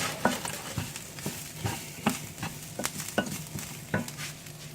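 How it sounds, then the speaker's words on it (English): Garlic fries in a pan for a short burst before rice is added, a soft sizzle broken by rhythmic spatula scrapes and taps against the pan, close and quiet with no talking. "So I'm going to throw it in real late and maybe give this about 30 seconds of time, just until I start to smell the garlic getting brown and delicious."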